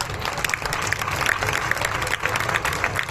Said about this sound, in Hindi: मैं चाहता हूं कि उनके सम्मान में एक बार ताली बजनी चाहिए।